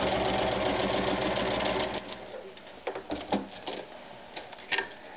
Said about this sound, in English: we're going to sew from the top where this corner is all the way down to the bottom where this corner is